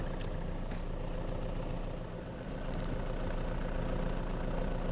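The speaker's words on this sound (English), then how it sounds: "I gotta turn off this truck. I'm making way too much noise." A truck engine idles in a zombie survival video game, a steady dense low rumble at close range, running continuously with a slight dip midway and no voices.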